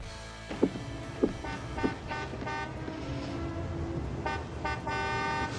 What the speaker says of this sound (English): Vivian, meanwhile, somehow hears Edward's car horn, despite the fact that he is still at least a block away.